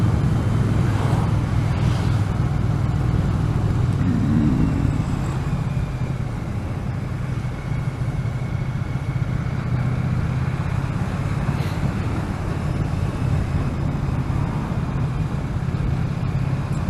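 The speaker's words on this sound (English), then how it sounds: "I want you to rather listen to the bike and see how the bike goes" A Triumph Street Cup 900 motorcycle cruises along the road, its engine giving a steady, continuous low drone mixed with wind and road noise, with no talk.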